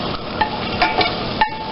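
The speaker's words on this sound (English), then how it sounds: "So I'm cooking down the butter. Cooking down the garlic." Butter and garlic cook down in a pan for a chicken wild rice casserole, giving a steady low sizzle with a few light clinks of a utensil against the pan.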